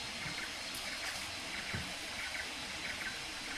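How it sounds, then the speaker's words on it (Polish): Hot water poured straight from a bamboo tube into cups of coffee at a jungle hotel in Mondulkiri, a steady soft trickling stream with faint background noise throughout. "Lejemy wodę prosto z bambusa do naszej kawy."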